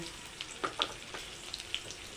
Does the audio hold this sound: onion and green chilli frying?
yes